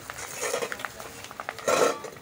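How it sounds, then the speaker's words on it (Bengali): A utensil scrapes and clinks against a frying pan in a few quick strokes as a frying egg is flipped, with a soft sizzle underneath. "ডিমটা এবার উল্টে দেব"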